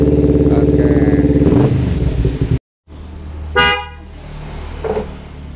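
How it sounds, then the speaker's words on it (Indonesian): A loud Kawasaki Ninja FI motorcycle engine, left unused for three years, idles and revs, then a short silence, followed by two brief horn toots a second or so apart over quiet rumbling. "Coba klakson. Klakson lagi."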